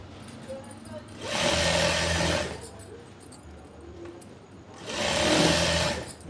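A sewing machine stitches fabric for palazzo pants in two loud, close whirring bursts of about a second each, separated by a quieter pause.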